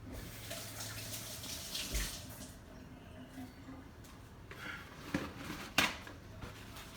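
Tap water runs and splashes in a kitchen sink as hands are quickly washed, a soft broken stream with small splashes and a couple of brief louder knocks near the end.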